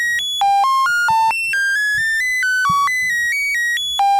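Modular synth oscillator patched through a Borg filter, playing a bright stepped sequence of sustained electronic tones that jump between pitches roughly every quarter second, loud and alone with a faint thump underneath.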